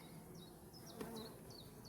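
Honeybees at an open hive in an isolated forest apiary hum in a steady, faint drone, with occasional individual bees passing nearby.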